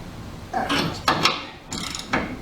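A ratchet cranks on bolts during an S10 leaf spring upgrade, making loud close bursts of rapid clicking in about four short runs, with no talking.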